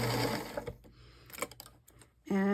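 A sewing machine runs as a quilt and its lining are sewn together with a quarter-inch seam: a steady whir at first, then quieter clicks and fabric handling, and a short loud burst of stitching at the end.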